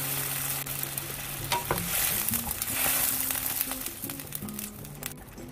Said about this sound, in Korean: 그리고 맛술 한 큰술을 넣고 볶아주세요